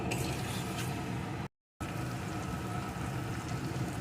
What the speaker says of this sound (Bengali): এখন সব কিছু দিয়ে ডুমুরটা বেশ খানিক্ষণ ভালো রকম কষিয়ে নেব